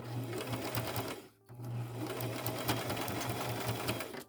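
A sewing machine runs at steady speed, stitching thick scrunchie fabric with elastic inside, a close rhythmic whirring hum that stops briefly for about a second before carrying on, with no talking.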